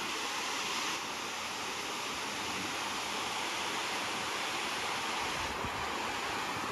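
Water released from a dam pours and rushes in a steady, broadband roar, constant and loud throughout with no voices.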